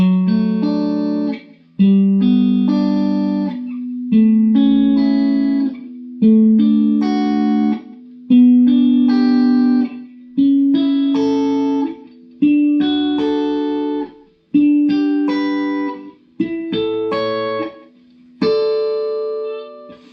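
Guitar strums a series of major triad chords one after another, each ringing out and decaying before the next, in an even, unhurried sequence.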